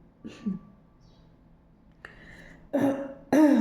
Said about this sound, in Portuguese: Eu tô com um pigarro danado